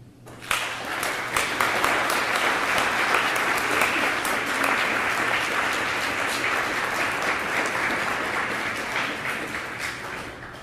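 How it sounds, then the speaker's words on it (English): A conference audience gives officers a long round of applause, many hands clapping in a thick, even roar that swells quickly, holds for about ten seconds and gradually eases. "I want you to applaud them."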